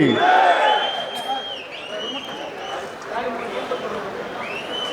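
A large crowd at a political rally in Shikaripura shouts and chants together, loud and close, with overlapping voices swelling at first and then settling into a sustained roar.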